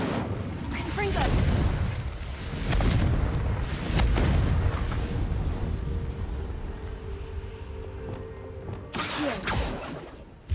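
Booming spell blast from Confringo in Hogwarts Legacy, a heavy explosive burst rumbling over busy game noise with further impacts and a sharp crash near the end.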